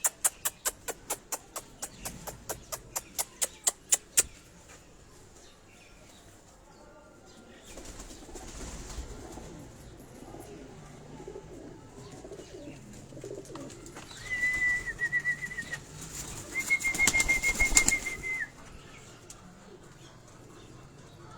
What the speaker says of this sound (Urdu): اور یہ اگر آپ یہ پیچھے اس کبوتر کو دیکھیں،